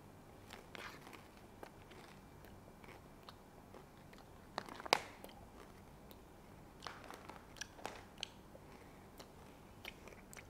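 Crunchy, sticky Camel brand Chilli Tapioca Ikan Bilis snack being chewed close up, with scattered crisp bites and crackles at an irregular rhythm over a quiet background, one sharper crunch standing out midway.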